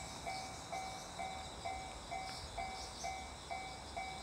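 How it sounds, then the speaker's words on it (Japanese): A train on the Utsunomiya Line runs past a railroad crossing by a shrine in Saitama, with a crossing bell clanging in an even repeating rhythm over a low rolling rumble, heard at moderate distance with no talk. "これ通ってるのは宇都宮線です。だからバンバンこの時間は電車通ります。"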